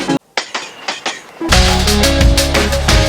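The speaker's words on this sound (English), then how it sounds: "The train tracks at the start." A train rattles over tracks with rhythmic clicking, then a dense, loud tonal rumble swells in and holds steady.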